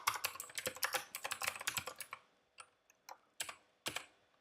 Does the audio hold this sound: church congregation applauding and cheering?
no